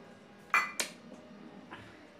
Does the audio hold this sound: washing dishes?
yes